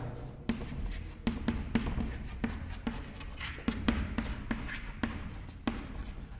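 Writing on a board during a history lecture: scratchy marker or chalk strokes with crisp taps roughly every half second, close and fairly loud, with no voice over them.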